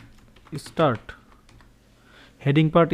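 HTML code is typed on a computer keyboard in quick bursts of close, crisp key clicks, with someone speaking between and over the keystrokes.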